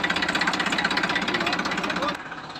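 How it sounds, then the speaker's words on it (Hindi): A tractor engine, one of several trying to pull a stuck trolley of cow-dung manure, chugs with a fast, steady knocking rhythm close by, dropping slightly in level near the end. "अब मैं भी अपना ट्रैक्टर स्टार्ट करके पूछा करता हूँ"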